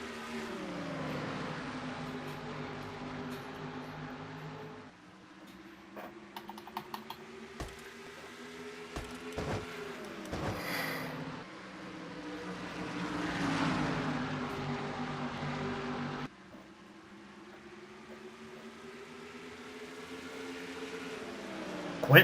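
A field of stock cars roars away at the start of a NASCAR-style race at North Wilkesboro in a racing video game, a layered droning engine whine rising and shifting pitch as the pack accelerates, with faint clicking throughout.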